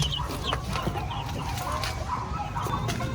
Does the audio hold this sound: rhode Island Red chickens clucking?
yes